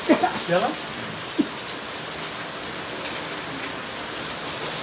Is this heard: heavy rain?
yes